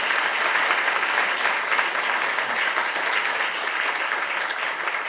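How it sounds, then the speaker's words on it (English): A large audience at a Salesloft product event applauds the product team, with full, even clapping sustained at a steady loud level throughout, no voices over it. "Please give them a round of applause."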